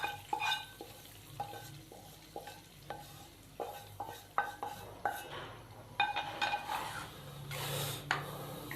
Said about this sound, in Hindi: तड़के को शामिल करने के बाद मैंने इसको अच्छे तरीके से मिक्स कर दिया है